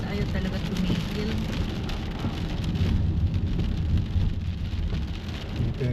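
Heavy, unrelenting rain pours down in New Zealand, a dense, loud, continuous roar of falling water that stays steady throughout without a break.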